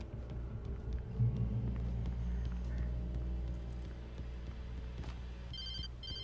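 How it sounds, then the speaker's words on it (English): A phone rings in the video game Alan Wake, a faint electronic trill in short repeated bursts near the end, over a low rumbling ambient drone. "There's my phone again."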